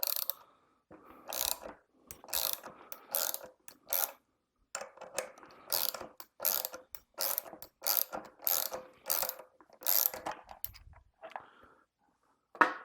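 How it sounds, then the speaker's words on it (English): A bearing puller works a greasy bearing off the axle of an electric unicycle motor, a Veteran Sherman S, giving a series of sharp ratcheting clicks in short bursts with brief pauses, close and fairly loud, with no talking. "with the bearing puller, because it's pulling on both sides equally, it's going to have a much easier time removing that bearing from the axle"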